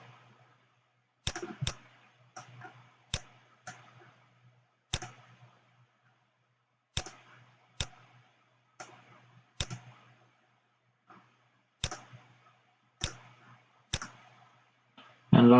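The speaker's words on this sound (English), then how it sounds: "click on the edge, click build surface. Do the same on all the openings." Computer mouse clicking while modelling a Y-shaped fitting in CFD software: sharp, quiet single and double clicks spaced irregularly across a silent room, with faint soft taps between them.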